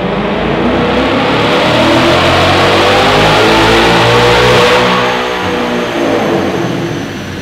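A 2024 Ford Mustang GT with a Steeda X-pipe resonator-delete exhaust revving hard on a dyno, a loud, sustained, rising roar that holds near and full, then eases off slightly toward the end.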